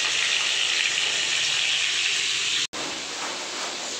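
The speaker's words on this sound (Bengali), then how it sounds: "আর এখানে দিচ্ছি দুধ জাল," Milk heating in a pan on a home stove: a steady, loud hiss and bubbling wash that carries on evenly, broken by a brief dropout near the end, with no talk.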